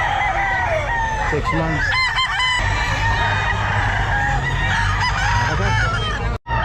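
Sweater gamefowl roosters at the Grotto pet market crow loudly and repeatedly, mixed with clucking and other birds nearby, while someone speaks briefly over the noisy market hubbub.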